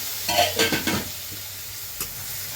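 Powdered spices including ground coriander sizzle and spit as a little water hits the hot pan while cooking a vegetarian cabbage dish, a short burst of loud hissing with stirring scrapes that quickly settles, no talk.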